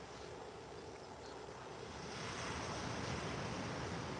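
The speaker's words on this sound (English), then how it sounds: "That sea sounds beautiful." Sea waves at Ladies Bay, Guernsey, a steady broad wash of surf that swells gradually louder, heard from a little distance with some wind and no talk.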